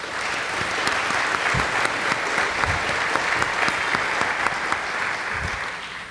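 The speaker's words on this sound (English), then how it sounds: "give our candidates another round of applause" A debate audience applauds steadily and fairly loudly, a dense spread of claps that holds for several seconds before easing slightly at the end.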